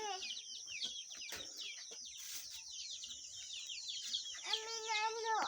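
Chickens at a poultry farm cluck and chatter in a continuous flock din, with one nearer bird giving a louder drawn-out call near the end.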